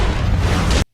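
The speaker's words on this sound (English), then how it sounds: "the explosion caused Danny to go flying backward" A house blows up in the action film 12 Rounds, a loud sustained roaring blast that fills the clip for under a second and then cuts off abruptly into silence.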